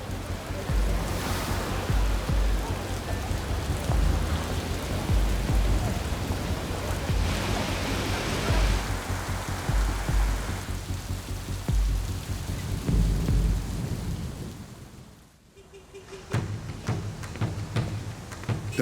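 Heavy, steady rain pours down in a dense wash while thunder rumbles low several times, and the downpour briefly thins near the end before rising again.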